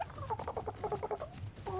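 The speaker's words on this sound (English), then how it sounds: "That bird sounds so cute." A gobbling, turkey-like bird call from ARK: Survival Evolved, a rapid run of bubbly warbled notes repeated in short bursts, close and clear over a low game background hum.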